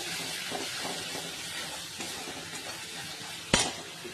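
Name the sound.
sautéing spiced masala with yogurt in oil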